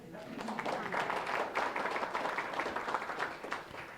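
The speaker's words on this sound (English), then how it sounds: "But you can clap for him anyway." Applause from an audience at a campaign announcement event, a dense, steady patter of many hands clapping at moderate volume throughout, with faint voices mixed in.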